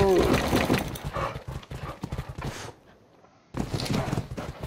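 Horse hooves clip-clop in the video game Ark Ragnarok, rhythmic and close, broken by a brief quiet gap before resuming, with speech over the top.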